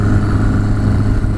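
Restored 'Basket Case' motorcycle running while being ridden, a loud, close, steady engine drone with no voices.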